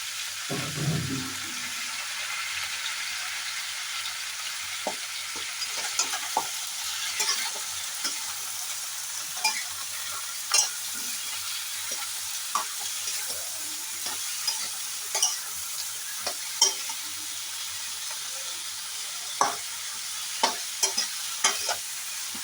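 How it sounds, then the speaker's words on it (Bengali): Vegetables stir-fried in a pan with salt and turmeric sizzle steadily while a spatula scrapes and clicks against the pan in frequent, irregular strokes. "সবজিটাকে সুন্দরভাবে ভাজা ভাজা করে নিতে হবে"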